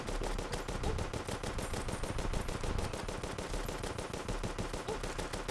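Rapid repeated shots from the stake launcher weapon in the video game Terraria, a steady, dense rattle of fire that continues without a break.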